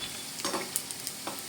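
Potato and rice pakoras fry in hot oil while being turned, giving a steady close sizzle with a few scraping stirs.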